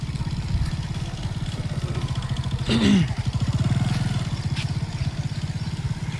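A motorcycle hauling a fodder trolley putters steadily at close range, its engine rumbling throughout with a brief louder rev and rattle midway.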